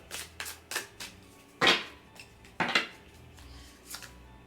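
Tarot cards shuffled and handled for a card draw, a run of crisp riffling and snapping bursts with a few stronger slaps, close and fairly quiet with no talk.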